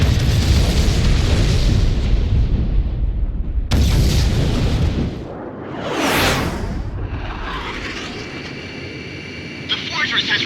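Massive explosion of the fortress shock cannon in the video game Ace Combat X, a heavy booming blast followed by a jet whooshing past and rumbling aftershocks, with game radio voices talking over it.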